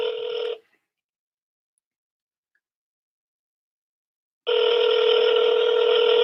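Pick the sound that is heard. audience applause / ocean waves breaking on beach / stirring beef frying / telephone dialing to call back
telephone dialing to call back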